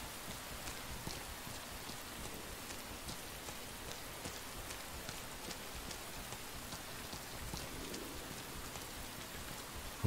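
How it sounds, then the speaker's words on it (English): Steady rain falls in the video game Rain, a constant faint hiss with dense patter and scattered drops, continuing evenly throughout without any talking. "Walking in the rain."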